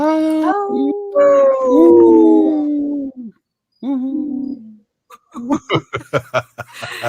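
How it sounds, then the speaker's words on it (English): Long wavering howls, rising and falling, presented as a wolf howling, then a burst of short choppy yelps and chuckle-like sounds near the end, loud and close. "Lewis just put up a howling wolf"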